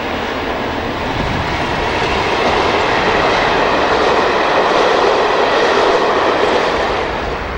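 Classic diesel locomotives haul a train of empty wagons at North Staff Junction, a loud, continuous rumbling roar of engines and rolling stock with faint clickety-clack, close and steady throughout.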